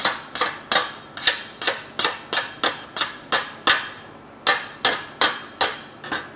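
A hammer chips dross off plasma-cut steel plate in a steady run of sharp metallic taps, roughly three per second, close and clear with a brief pause before the strikes resume.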